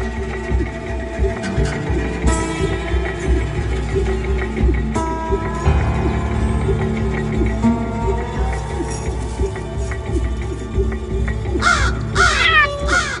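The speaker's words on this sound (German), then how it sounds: "Krähen haben verschiedene Warnrufe, einen für Katzen und einen für Habichte" Crows give harsh, repeated warning caws, loud and close, over a dense layered background of other calls and a steady low hum throughout.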